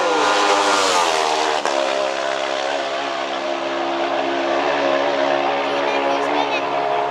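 A supertwin racing motorcycle engine at the Isle of Man TT, a sustained high droning roar holding a steady pitch and slowly easing, loud and close, with a commentator talking over it.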